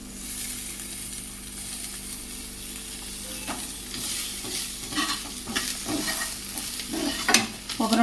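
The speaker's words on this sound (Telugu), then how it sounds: "ఒక 2 నిమిషాలు కరివేపాకుని ఫ్రై చేసుకోవాలండి." Curry leaves and browning onions sizzle in a hot pan for an egg curry while a spoon stirs and scrapes through them, a steady close fry with louder scraping bursts toward the end.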